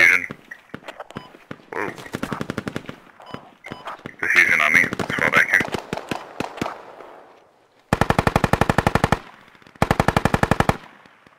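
Automatic rifle fire in the Squad tactical shooter game crackles in loud bursts, with scattered single shots early on and two sustained machine-gun volleys near the end, while players talk over radio.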